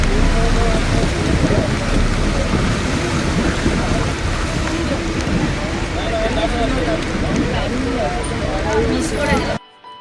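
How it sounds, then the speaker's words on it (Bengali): Heavy rain pours down steadily and loudly throughout on the road from Srinagar to Sonmarg, Kashmir, a dense continuous roar that cuts off abruptly at the end. "আর সেই সঙ্গে এলো ঝমঝমিয়ে বৃষ্টি"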